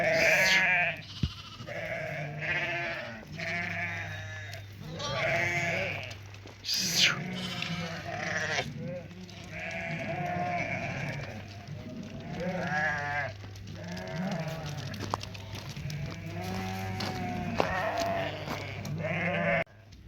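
A flock of pregnant ewes bleats over and over, many overlapping close and mid-distance calls forming a busy, continuous chorus, with a steady low hum beneath.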